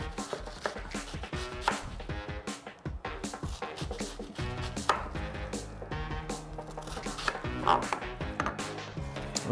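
A knife chops sausage against a cutting board in quick, uneven strokes, close and fairly steady, with faint kitchen noise underneath.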